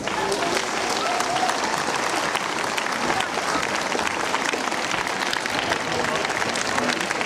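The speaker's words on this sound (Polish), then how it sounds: "Duże brawa" Dense, steady applause from a large concert audience fills the space, a continuous loud wash of clapping with crowd noise mixed in throughout.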